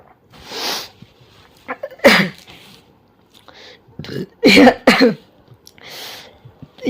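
Several sharp coughs in short bursts, close and loud, with quiet pauses between them.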